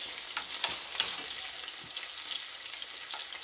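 Catfish frying in a pan on a home stove: a steady, moderately close sizzle and spatter runs throughout, with a few louder crackles and pops early on.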